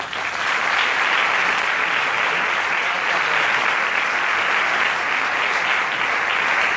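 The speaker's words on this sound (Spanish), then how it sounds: "les pido por favor un aplauso" A crowd at a book presentation breaks into loud, sustained applause, dense clapping that fills the room evenly for several seconds with no voices on top.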